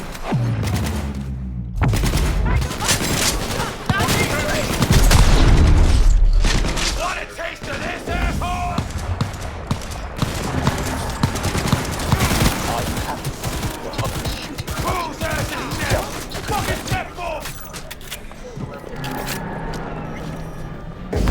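Grenade explosions and gunfire from a Cyberpunk 2077 firefight make a loud, dense, continuous barrage of shots and blasts throughout, with no clear pauses.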